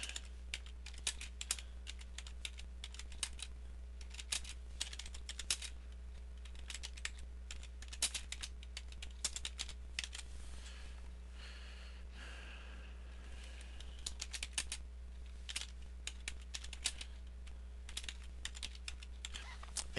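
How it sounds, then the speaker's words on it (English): Steady clicking of keys on a computer keyboard, typed at an even pace with short pauses, close and moderately quiet over a constant low electrical hum. "I'm going to type in"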